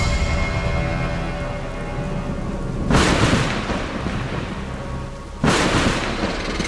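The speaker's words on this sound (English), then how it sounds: "The thunder strikes continues outside while emanating bright flashes every time it strikes." Thunderstorm with steady heavy rain throughout, broken by two loud rolling thunder crashes, one near the middle and another toward the end, each swelling broadly before fading back into the rain.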